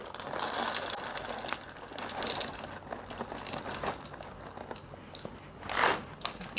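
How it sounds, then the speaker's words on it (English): Hershey semi-sweet chocolate chips tumble into a measuring cup with a bright rattling clatter at the start, then scattered lighter ticks and crinkles that taper off over several seconds. "I'm gonna put a cup of semi-sweet chocolate in this."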